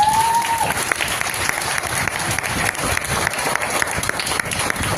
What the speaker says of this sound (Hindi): अगर ताली नहीं बजाएंगे तो प्रोग्राम आगे नहीं बढ़ाएंगे